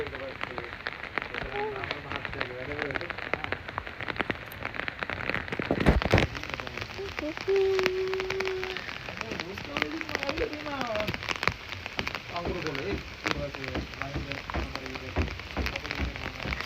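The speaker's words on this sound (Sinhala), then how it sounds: "වහිනවා" Steady rain pattering outdoors at a hobbit house in Sri Lanka, a dense continuous hiss with scattered louder drops and voices talking faintly underneath.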